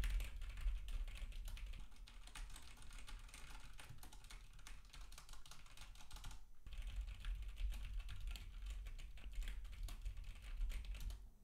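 Rapid, continuous clicking of keys on a computer keyboard, close and steady with a brief pause midway.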